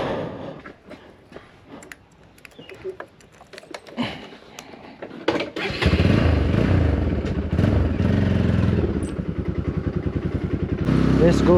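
A motorcycle engine starts after scattered clatter and thumps, then idles loudly and steadily with a throbbing pulse, up close.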